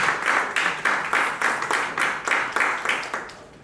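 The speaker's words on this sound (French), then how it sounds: "Je vous demande de recevoir avec un tonnerre d'applaudissements" Applause from an audience at a conference on cultural industries as a lever for economic development, a steady rhythmic wash of claps with regular pulses, moderately loud and continuous without talk.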